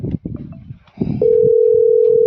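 A telephone dial tone cuts in as a steady, loud continuous beep while placing a call, after a few seconds of voices talking nearby.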